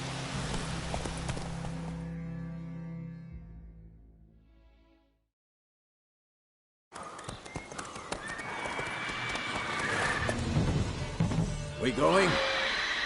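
A horse in The Witcher 3 gallops with close rhythmic hoofbeats, then the sound cuts to silence before returning with more hooves, whinnies, crashes and background clatter, while voices call out.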